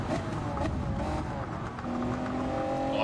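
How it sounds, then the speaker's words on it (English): A Gr.2 race car in Gran Turismo 7 roars steadily at speed, its engine note shifting with throttle and sharp pops and crackles from the anti-lag system punctuating the drone. "Oh, I can hear anti-lag"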